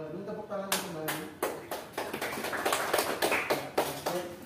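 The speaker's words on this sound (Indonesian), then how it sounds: "Tepuk tangan untuk Mbak Hanum" A class claps for a student's answer in a classroom lesson, a short run of moderately loud, fairly quick claps with a voice heard at the start.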